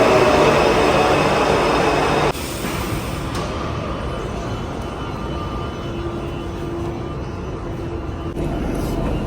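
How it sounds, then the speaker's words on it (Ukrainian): A loud, steady rumble of a Budapest metro train rolling into the station, with a sudden drop in level partway and a faint rising whine near the end. "Наша метро під'їжджає."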